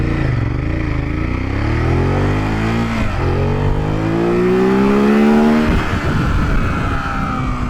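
A 2020 Ducati Monster naked motorcycle accelerating hard in sport riding mode, its engine climbing steeply through the revs with a loud close roar, then shifting up before pulling again.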